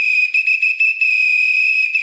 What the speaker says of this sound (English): Give him a little bit of that whistle.